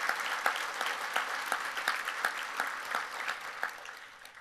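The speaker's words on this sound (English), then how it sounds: "let's give a round of applause for that." Steady applause from an audience at a college football awards ceremony, even clapping sustained throughout at moderate distance.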